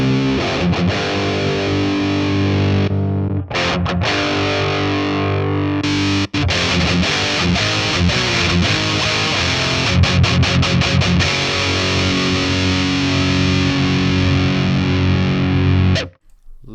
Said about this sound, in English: Katana Mark II authentic amp tone. High gain lead.